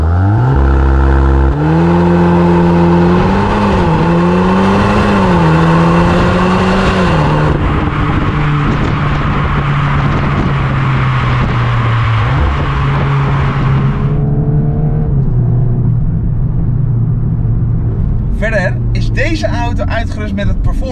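A 2022 Volkswagen Golf R fitted with a lighter Akrapovic exhaust system revs loud and close, its engine note climbing and dipping repeatedly before settling into a steady drone, with a burst of other noise near the end.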